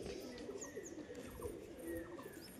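Low repeated coos from a male Jagmukhi pigeon, fairly faint, with several other birds chirping intermittently around it over a constant ambient murmur.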